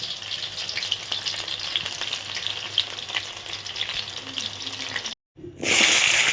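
Soya chunks fry in hot oil in a wok with a dense, steady sizzle and occasional stirring scrapes, broken by a short silent gap before a louder hiss resumes.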